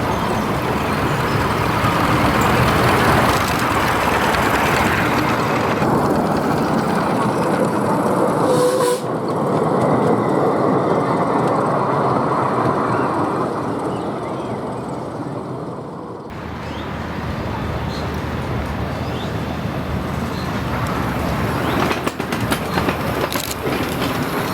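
A rebuilt 80-year-old locomotive running on the line at Lakeshore, loud and close, with continuous rumbling and clickety-clack from the wheels and a brief shift in tone as it passes.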